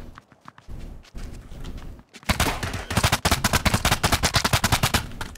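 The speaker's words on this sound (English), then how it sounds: "Check the building. I'm hearing gunshots." Rapid gunfire in a battle royale video game, with sparse shots early and then a dense burst of repeated, loud bangs in quick succession during the second half.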